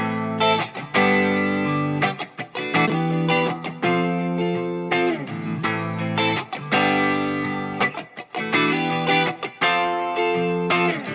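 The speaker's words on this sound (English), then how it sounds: "I've got this on some rhythm guitars, just cut away some mids, add a little bit of lows and highs, but then I'm adding some saturation to the mid range as well" Rhythm guitars run through a Safari Pedals EQ plugin, with mids cut, lows and highs lifted and the midrange saturated, play loud sustained distorted chords in a steady rhythm with short breaks, and there is no talking.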